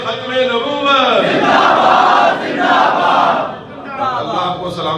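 Crowd at a religious rally chanting slogans together, a loud massed roar of voices rising and falling in call-and-response waves, close and continuous.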